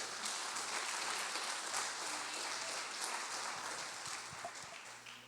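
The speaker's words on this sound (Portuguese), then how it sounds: "As palmas para Ele." Sustained applause from a congregation during a church service, a steady wash of many hands clapping at a moderate distance for several seconds with no speech over it.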